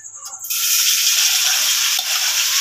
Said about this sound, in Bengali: এবারে এগুলোকে কাঁচা কাঁচা রাখা যাবে না, তাই একটুখানি হালকা করে ভেজে নিই।